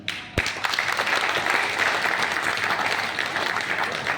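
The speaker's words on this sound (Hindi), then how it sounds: "वो है आपकी केवल तालियां।" Audience applause at a Hindi poetry gathering (kavi sammelan) in Siwan, a dense steady wash of many hands clapping that begins abruptly after a sharp knock and holds for several seconds.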